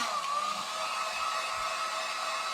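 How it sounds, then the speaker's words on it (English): A heat gun blows steadily over a fall-themed home decor craft piece to dry it, giving an even, airy whir like a hair dryer that runs nearly unchanged for a couple of seconds. "I'm just going to go back over it with my heat gun."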